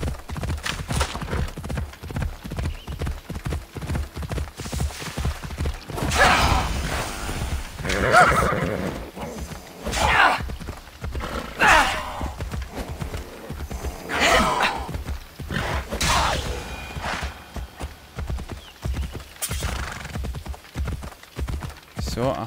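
A horse in the video game Assassin's Creed Odyssey trots with steady hoof clip-clops and lets out several loud neighs and whinnies, while someone talks over it.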